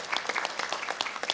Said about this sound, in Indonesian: Tepuk tangan untuk Bu Adi.